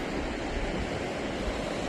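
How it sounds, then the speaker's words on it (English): Water pours over a river weir in Shrewsbury, a continuous loud rushing roar heard up close with no pauses and no voices. "Just at the weir in Shrewsbury."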